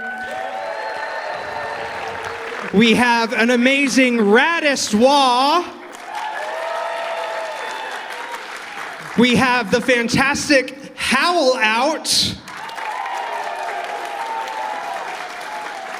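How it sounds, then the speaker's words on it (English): A crowd applauds guests of honor during the opening ceremonies of the AnthroExpo 2025 convention, with steady clapping running beneath a host's amplified announcements that come in two stretches. "please stand and everybody give a round of applause"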